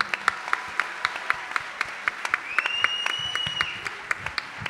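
Audience applause at a talent show rings out as a sustained round of clapping with sharp individual claps standing out, moderately near, with a faint tonal whine partway through.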